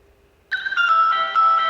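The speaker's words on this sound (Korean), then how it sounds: "이거 휴대폰 벨소리 아니야?" A mobile phone ringtone abruptly starts after near-silence, a bright electronic melody of sustained tones playing loudly and alone.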